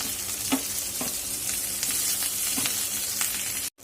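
Green chillies sizzle steadily in a hot pan over a raised gas flame, a continuous bright crackle broken by a few soft stirring taps before cutting off abruptly.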